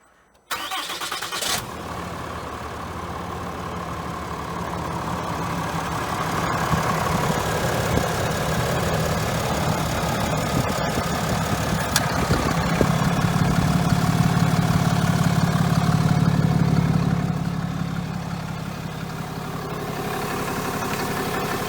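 A 2021 RAM 3500 diesel pickup cranks briefly, then catches and settles into a steady, rumbling idle that runs for about twenty seconds. The engine is loud and close, with no voices over it.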